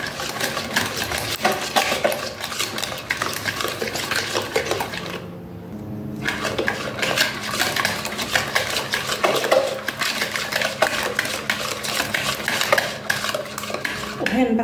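Eggs and sugar are beaten by hand with a whisk in a bowl for cupcake batter, producing fast, continuous metallic scraping and clinking that pauses briefly midway, then resumes at the same brisk rhythm.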